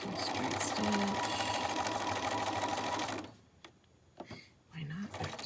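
A sewing machine stitches scrap fabric patches, whirring steadily and loudly for about three seconds before stopping, then starting up again briefly at the end, with a person talking in between.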